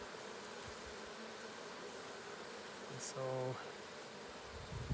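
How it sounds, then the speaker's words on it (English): A queenless bee cluster broken into two balls, agitated and buzzing as a faint, steady hum under background noise, with a brief louder burst midway and a short spoken word. "They're agitated. They've broken up into two balls of bees."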